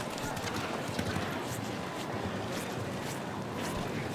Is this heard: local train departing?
no